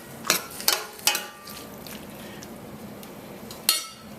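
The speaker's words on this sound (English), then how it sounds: "Give it a good stir." Caribbean stewed beef stirred in a pot, a spoon knocking against the metal in four sharp clinks over a soft sizzling background.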